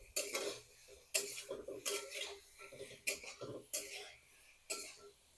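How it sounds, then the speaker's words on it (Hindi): Chicken masala being roasted over a medium flame in a kadhai, with repeated loud scrapes and clinks of a spoon against the pan in uneven bursts, close by, with a few throat-clearing sounds in between. "तरीके से इसको भूनेंगे ताकि पूरा मसाला जो है हमारा अच्छी तरीके से भुन जाए"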